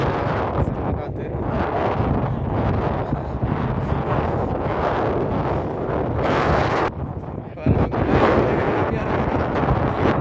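Strong wind buffets the microphone at an outdoor cricket ground in Saudi Arabia, a loud rough roar that surges and dips throughout, with a short lull before it picks up again.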